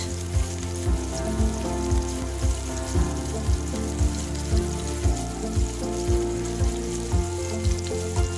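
Chopped onions fry in soybean oil for a quick green tomato stir-fry, giving a steady close sizzle with a regular run of soft thumps or taps layered over it, with no talking.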